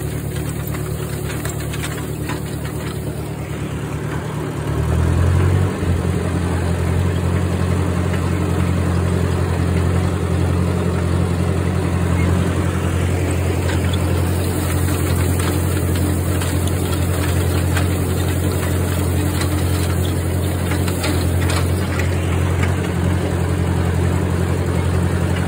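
A farm tractor engine runs steadily while cutting second-cutting hay on small acreage. It idles low at first, then picks up into a loud, constant, knocking drone that continues to the end without talk.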